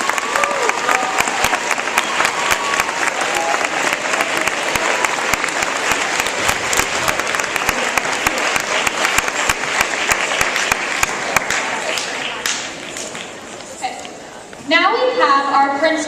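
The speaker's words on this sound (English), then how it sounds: "Please let us give another round of applause to Ms. Salabarria." A school audience gives a sustained round of applause after a speaker on patriotism, many hands clapping steadily and loudly before it thins out, then a voice begins speaking at the end.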